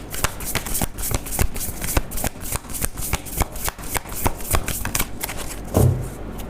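Tarot cards shuffled and drawn from a deck, a close, crisp run of rapid riffling flicks and taps in steady bursts, ending with a soft thump of cards set down.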